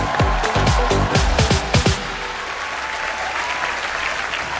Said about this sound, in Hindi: सलमान भाई के लिए एक बार जोरदार तालियां हो जाए